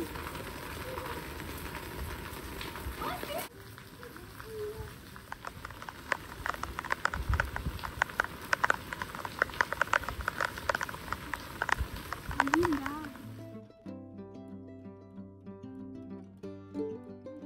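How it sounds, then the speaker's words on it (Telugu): Rain falls on a house terrace facing the Simhachalam hill, a steady soft patter with scattered drip taps, faint and close, before the sound gives way to music. "స్టార్ట్ అయిపోయింది మళ్ళీ వర్షము"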